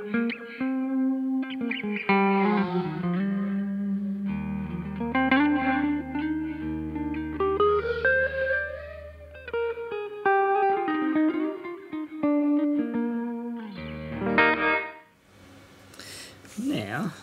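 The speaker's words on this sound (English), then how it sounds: "So it gives you 200 milliseconds before the reverb actually hits." A Chase Bliss Dark World dual-channel reverb pedal processes sliding, pitch-bending guitar notes, with its pre-delay set to about 200 milliseconds, so the lush wash arrives after each note before a burst of distorted, shimmering effects.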